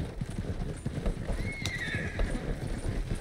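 Horse in the Red Dead Online video game, with steady clip-clop hoofbeats close by and a whinny rising over them midway, against low rumbling ambience.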